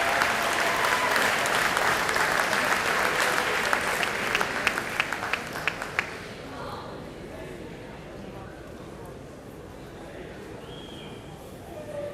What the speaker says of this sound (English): Y'all give them another round of applause, please